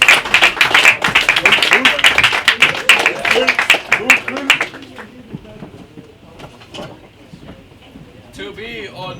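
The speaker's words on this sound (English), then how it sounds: "Round of applause for Enbe" An audience claps for a spoken-word performer, close, sharp individual claps for about five seconds before the applause thins out into scattered claps and quiet murmuring voices.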